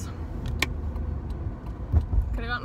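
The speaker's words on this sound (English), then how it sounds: "Oh, that car was going straight." A car drives past close by on a big road, a steady low engine and tire rumble swelling slightly toward the end, with a few brief jingling clicks over it.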